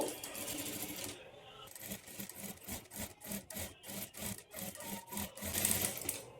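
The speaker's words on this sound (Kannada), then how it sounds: "ಇಲ್ಲಿ ನಾವು ಥ್ರೆಡ್ ಪಕ್ಕದಲ್ಲೇ ಸ್ಟಿಚ್ ಬೀಳೋ ಥರ ಸ್ಟಿಚ್ ಹಾಕ್ಕೊಳ್ಬೇಕು" A sewing machine stitches blouse fabric beside a thread line, making a rhythmic, close mechanical chatter in steady pulses with short pauses, and no speech.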